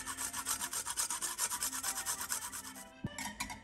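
Seasoned béchamel sauce, with salt, cayenne and grated nutmeg added, is stirred in a pan in rhythmic strokes, a close scraping swish repeating steadily before a brief clink and pause near the end.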